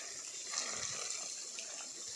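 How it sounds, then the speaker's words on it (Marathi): Water poured onto mango trees in an orchard, a steady wash of splashing, running water, fairly quiet and continuous with no speech. "तर आता सगळं पाणी घालून घेतो पटकन."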